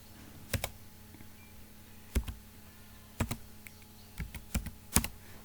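Sparse clacks on a computer keyboard as a date of birth is typed in, a few separate keystrokes and short bursts, quiet and close with no voice.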